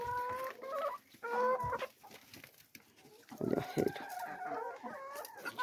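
Chickens cluck in repeated short bursts at close range, with a few louder calls and a crowing-like note rising over a busy farmyard background; no one speaks.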